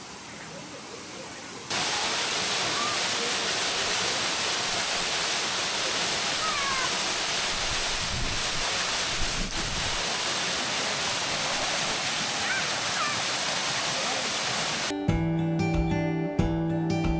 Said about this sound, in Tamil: பாருங்க, இதுதான் வந்து அகஸ்தியர் ஃபால்ஸ்.